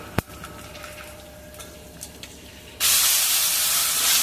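Pieces of half-ripe raw mango hit hot tempering oil already seasoned with asafoetida. A few quiet clicks come first, then a sudden loud, steady sizzle rushes up close and holds.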